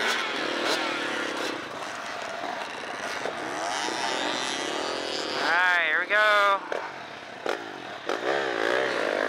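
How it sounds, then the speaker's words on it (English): A Kalex 170 dirt bike revving in a hare scramble race, its engine buzzing and rising in pitch through gear changes, mixed with other bikes and wind on the course while a person talks over it. "This is a Kalex 170's debut dirt race."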